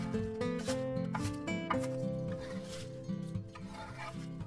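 A knife chops scallions into 4-5cm lengths for a Korean geotjeori salad, giving a series of fairly quick, irregular cutting knocks under steady background music.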